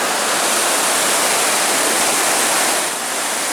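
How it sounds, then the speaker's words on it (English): The Temperance River rushes past a campsite beside the Superior Hiking Trail, a loud, steady broadband roar of fast water that stays constant throughout with no voices. "as you can hear, it's by a pretty good sized river."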